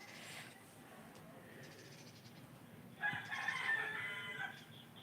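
A rooster crows in the morning, a drawn-out call rising clearly over steady background noise in the second half, with a fainter crow-like call at the start; no talk during the sound.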